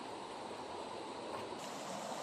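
Quiet, steady rush of clear, cold water flowing from a natural spring beside the Tinipak River, a continuous broadband wash with no voices.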